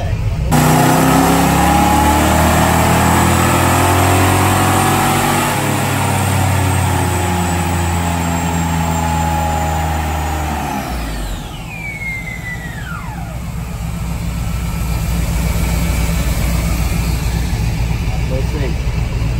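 A car engine revs hard on a dyno pull, climbing to a loud, close roar that winds up for around ten seconds, then falls away with a descending whine as it coasts down to idle.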